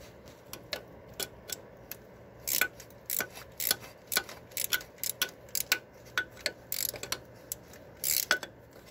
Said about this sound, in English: just get that bolt out.